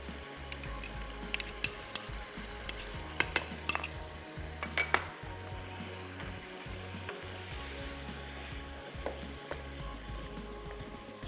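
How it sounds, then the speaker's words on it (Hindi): Masala spices sizzle and fry in a pan while a utensil stirs and scrapes, producing a steady close hiss with scattered metallic clinks. "अब मसाला भुन जाए, 30 से 40 सेकंड तक अच्छे से मसाला भून लें"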